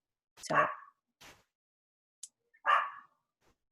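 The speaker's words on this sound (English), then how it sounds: "Sorry if you can hear my little dog in the background." A small dog barks outdoors in the background, two short yips followed by a pause and then another bark, fairly distant and sparse. A brief spoken word comes in between.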